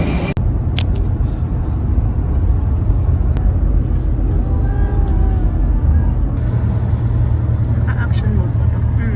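A car drives along a road near Jebel Hafeet, giving a steady loud rumble of engine and road noise with brief higher rattles, heard from inside the vehicle while people talk faintly.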